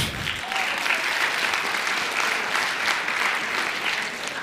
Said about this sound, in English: You can hold your applause